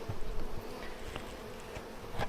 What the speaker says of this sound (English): right now you can see the bees are going to start moving up through that queen excluder